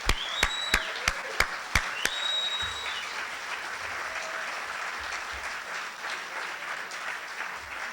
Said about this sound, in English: Will the entire Federation team please stand so we can applaud you and thank you